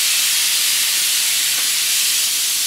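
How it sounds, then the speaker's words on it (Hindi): A pressure cooker whistle lets out a continuous, steady hiss of escaping steam while green paste and drumsticks are being cooked, the sound loud and close, running for a few seconds alone without talk. "कुकर में एक सीटी आई है."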